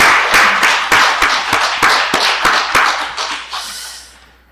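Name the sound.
church congregation applauding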